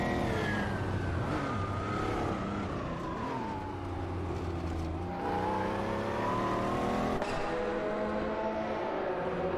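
Race cars, Porsches among them, in a computer-simulated racing game, engines droning and shifting pitch continuously at steady loudness with no talking.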